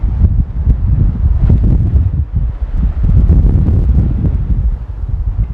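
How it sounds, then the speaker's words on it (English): Strong wind buffeting a microphone outdoors by a lakeside walkway, a continuous loud low rumble that surges and dips with no other clear sound. "That wind is crazy."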